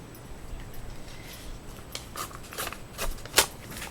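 Scissors trim the edge of a paper envelope with a few quiet, close snips in an uneven rhythm, the last cut the sharpest.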